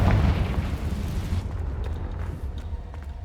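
A Confringo spell explosion bursts in Hogwarts Legacy, a loud deep rumbling blast that rolls and fades over a few seconds, heard close with no talk.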